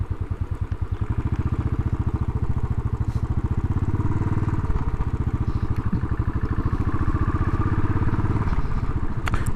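A 2018 Royal Enfield Classic 500 single-cylinder motorcycle thumps along while riding, its steady, rapid engine beat loud and close, with a slight shift in tone partway through and no talk.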